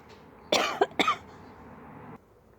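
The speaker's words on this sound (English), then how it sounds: "I was coughing" A person outdoors in a backyard garden coughs twice in quick succession, close and fairly loud against quiet background noise.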